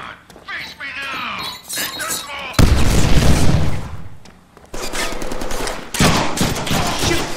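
Loud gunshots and bursts of weapon fire in the Deadpool video game, arriving in heavy clustered volleys with booming impacts, mixed with energetic talking.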